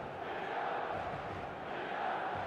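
A dense, steady roar from a stadium crowd in the eFootball video game fills the space before kickoff, continuous and broad without distinct voices.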